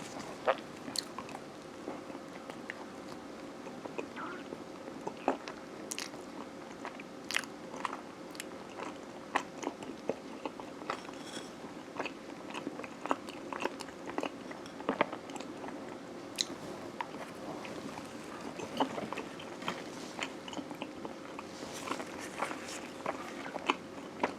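Close, steady chewing of sweet pumpkin songpyeon rice cake, soft sticky bites and mastication repeating in an irregular rhythm with no talk.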